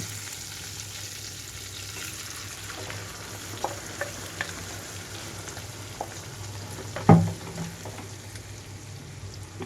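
Cooked lentils are stirred into a frying pan with turmeric for spinach dal, a steady crackling sizzle with light scraping stirs and one louder knock near the end.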